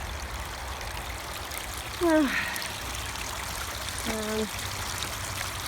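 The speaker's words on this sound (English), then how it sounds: "I managed to figure out how to get my recirculating pump working." Water trickles steadily from a recirculating pump into a banjo pan, a soft continuous wash throughout, with a couple of brief voiced sounds over it.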